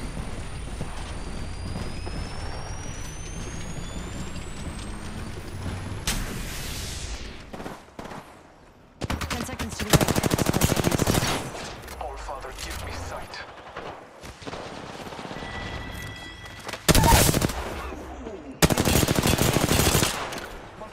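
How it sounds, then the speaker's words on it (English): Bursts of automatic gunfire in an Apex Legends match, several loud rapid volleys separated by pauses, with in-game effects and a player's voice chat underneath. "getting shot at."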